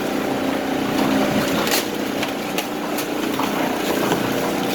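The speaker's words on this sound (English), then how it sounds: "Now the auger's starting to emerge out from under the pile." A Denver auger machine churns through a pile of material, giving a loud, steady motorized rumble and grind that continues without a break and with no talk.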